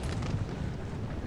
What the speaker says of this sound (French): la cavalerie légère a chargé mais les canons se sont retournés et ont tiré à la mitraille